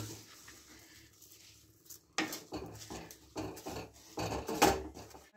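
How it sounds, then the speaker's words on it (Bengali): Moong dal being sautéed with spices in a pan, stirred with metal utensils: scattered clinks and scrapes of a spoon against cookware, getting louder and busier toward the end, with no talking. "দিয়ে একটু মশলাগুলোর সাথে কষে নেবো ভালো করে"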